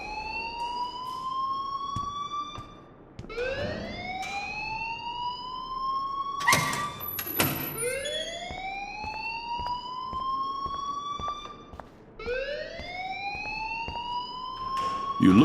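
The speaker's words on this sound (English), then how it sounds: "please turn off that alarm since that's your job" A rising, wailing electronic fire alarm sounds in the video game Life is Strange, its tone sweeping upward repeatedly in loud cycles of a few seconds, with brief clattering bursts in between and no talk.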